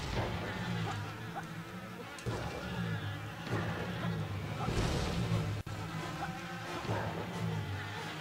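Buzzing bees in the video game Yooka-Laylee, a continuous droning hum with pitch swells, playing steadily and fairly loud under occasional game noises.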